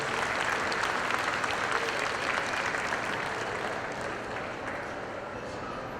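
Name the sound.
applause for the breeders and exhibitors at a cow show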